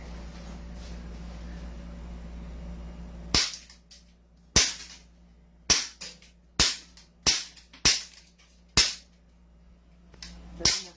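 A CZ Shadow 2 pistol fires about eight sharp, loud shots in an irregular sequence after a few seconds of steady low background hum.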